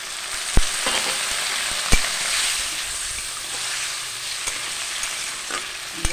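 Egg curry cooking down with chilli and a little water in a pan makes a continuous bubbling sizzle, with a few sharp spoon knocks against the pan.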